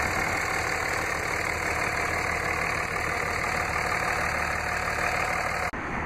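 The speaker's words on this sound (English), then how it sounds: "Has the 24-valve Cummins turbo diesel high-output inline six-cylinder engine." The 24-valve high-output Cummins turbo diesel inline six in a 2006 Dodge Ram 3500 dually idles with a steady, loud diesel clatter and rumble, continuous and unchanging until an abrupt cut at the end.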